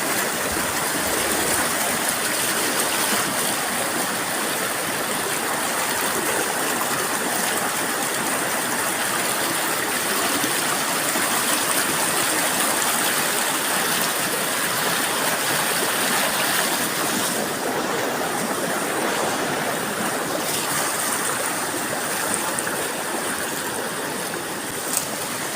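A river running high after heavy rain, its broad rushing flow steady and loud throughout with no voices.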